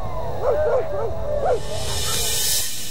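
Several dogs at a breeder's kennel bark and yip in short arched bursts, four or five calls in quick succession, over a steady background hiss and low rumble.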